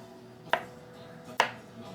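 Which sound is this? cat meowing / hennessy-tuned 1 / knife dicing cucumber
knife dicing cucumber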